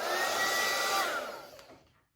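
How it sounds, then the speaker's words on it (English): A hair dryer blows with a steady, high whooshing whine, then winds down and fades out as it is switched off. "So I'm gonna go get just a random hairdryer."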